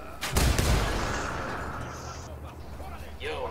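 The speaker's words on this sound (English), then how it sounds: "Yo, watch out for the flashbang." Flashbang grenade exploding in the video game Ghost Recon Wildlands, a sharp loud blast with a booming low rumble that decays into a long ringing wash, with voices faintly present.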